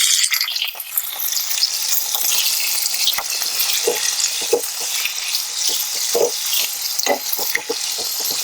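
Loud, steady sizzling of potatoes frying in hot oil with cumin, with occasional clinks and scrapes of a utensil stirring the pan.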